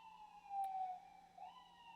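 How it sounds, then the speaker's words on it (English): An emergency vehicle siren wails outside, faint and distant through a wall, with a steady tone that bends and shifts pitch as it passes. "Sorry about the sirens, guys."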